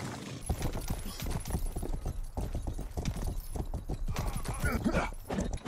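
In the video game Rustler, a horse's hooves clip-clop in a quick, steady rhythm at moderate loudness, with a voice talking over the hoofbeats.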